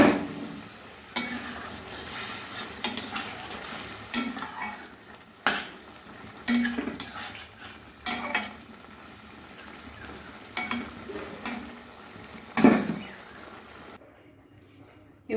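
Fish pieces going into a simmering tomato curry in a pan, with scraping stirs and clinks of a utensil against the pan over a soft sizzle, in uneven bursts with short pauses, no talking.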